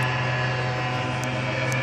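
A small propeller aircraft drones steadily overhead, a continuous loud engine hum with a strong low tone that holds even throughout, with no talk over it.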